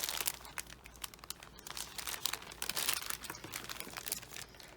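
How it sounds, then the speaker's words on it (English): Packaging crinkles up close, a steady run of soft crackling and rustling with no one speaking. "Sorry for the crinkling."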